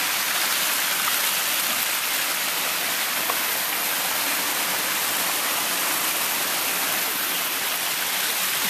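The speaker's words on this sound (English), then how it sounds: "I'm going to show you the overflow, or the discharge, actually, of the water after it spins the turbine. And it goes right back into the creek." Discharge water from a small hydro turbine pours out of two 4-inch lines back into a creek, a loud, steady broadband rush with no pauses and no voices.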